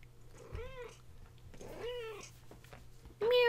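Francesca, a pet cat, gives three separate meows close to the listener over a low steady hum, each one drawn out and rising then falling, with the last meow sharper and louder.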